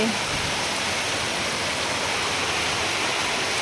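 Heavy rain pours steadily, with water running off and rushing past nearby, a dense, loud, unbroken roar with no pauses.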